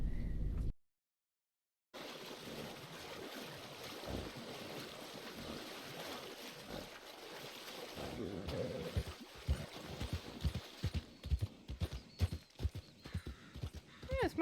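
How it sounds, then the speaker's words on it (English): In a video game, a Shire horse's hooves clop in a quickening, uneven rhythm over a windy, watery ambience, growing louder and sharper toward the end after a brief silent gap. "Yes, my Shire horse still here."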